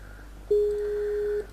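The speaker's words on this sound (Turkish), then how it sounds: "Bir dakika arkadaş Skype'den mesaj attı." A Skype notification sound plays on a computer during a Sky Factory game session, a single steady electronic tone lasting about a second, clear over a faint background hum, with no talk.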